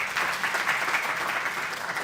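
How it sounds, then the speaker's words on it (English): A brief burst of steady applause rises from the audience at an Islamic psychology symposium after a presentation, clapping evenly and moderately loud for about two seconds. "And one more round of applause,"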